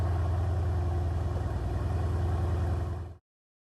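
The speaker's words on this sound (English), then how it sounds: "You can hear the engine" Race car engine in the iRacing sim game drones loudly and steadily with a dense low rumble and pulsing rhythm, holding for about three seconds before cutting off abruptly into silence.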